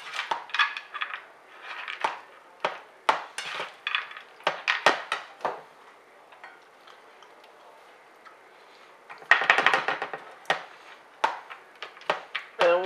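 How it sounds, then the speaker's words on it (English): Sauce ingredients for a chicken stir fry being mixed in a bowl, a close run of quick sharp utensil clicks and taps against the dish, irregular with brief pauses and a denser burst near the end. "And then mix this concoction together."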